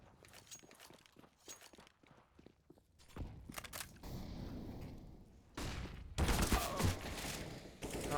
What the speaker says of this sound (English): Nice kill from Monster.